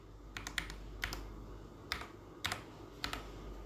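Keys tapped on a computer keyboard to enter a student ID number, a handful of separate clicks and short bursts spread irregularly over a few seconds, close and fairly quiet against a low room hum.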